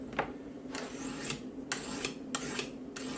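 A knife is sharpened on a 400 grit diamond sharpener: about eight close, crisp rasping strokes in an even back-and-forth rhythm over a quiet background.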